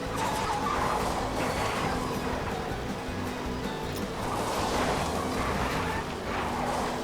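In the Cars video game, a race car power slides across Ornament Valley dirt, tires skidding and hissing continuously over a steady engine roar for several seconds.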